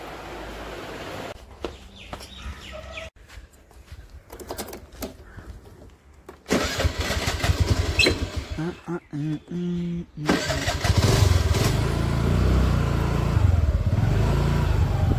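An old motorcycle engine is started with two tries on the electric starter: a cranking burst, then a louder catch into a steady running rumble. A person talks over the start.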